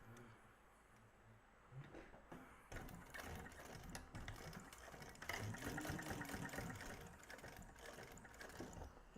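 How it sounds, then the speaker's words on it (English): Sewing machine top-stitching a Tumbleweed bag by Blue Calla, a steady mechanical whirring run that grows louder partway through, close up with no talk. "now I'm going to top stitch that"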